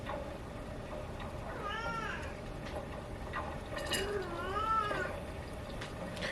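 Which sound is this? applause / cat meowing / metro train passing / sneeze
cat meowing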